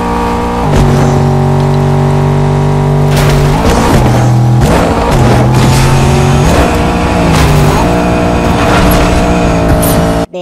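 A car engine drives in the Fortnite video game, a loud continuous motor drone whose pitch steps up and down several times like gear changes, with no talk over it.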